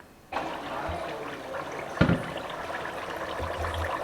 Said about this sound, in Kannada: ತುಪ್ಪ ಕುದೀತಾ ಐತಿ ಕತ ಕತ ಆಯ್ತು